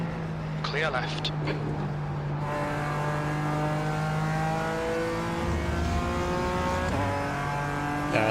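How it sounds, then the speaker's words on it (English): Snarling LMP3 prototype race car engine in a racing sim game, revving hard through rising and falling gear pulls with tire noise, loud and close, while someone talks over the first part. "LMP3s are so much fun. They sound gnarly."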